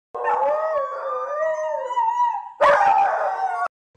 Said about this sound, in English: these two just howl together, you know, in unison.